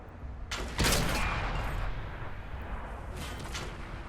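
Pz V/IV tank cannon fire in World of Tanks on console: a sharp, heavy blast followed by a long rumbling decay, with a second fainter shot near the end.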